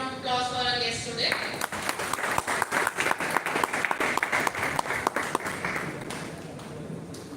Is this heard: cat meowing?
no